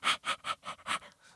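Human voice imitating a small dog's panting with a raised larynx: six quick, breathy huffs in a steady rhythm, fading slightly toward the end, close and fairly quiet.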